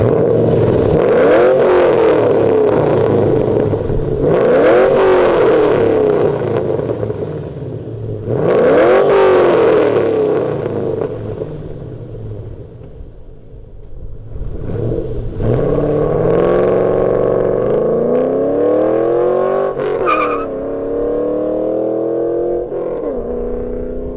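A 2005-10 Ford Mustang GT with a modified 4.6L 3-valve V8, BBK long tube headers, an off-road mid-pipe and an SVE axle-back exhaust revs hard several times, each loud rise falling back to a rumbling idle, then holds a longer rev.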